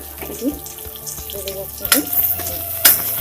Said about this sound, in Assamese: পিয়াজ আৰু জলকীয়াখিনি ভাজি হৈ গৈছে